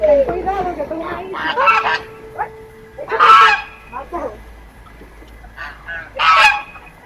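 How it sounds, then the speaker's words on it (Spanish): Several loud goose honks in short bursts, some close and harsh, with a child's and adult's voices talking between them outdoors at the botanical garden in Santo Domingo. "Mira, son gansos. Vamos a ver los gansos."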